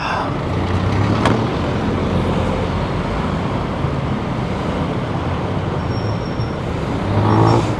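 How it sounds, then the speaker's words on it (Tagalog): Dense, continuous road traffic rumbles on a city street in Manila, with engines droning nearby, a steady wash of tire noise and a slight swell of passing vehicles near the end. "Ayan, traffic."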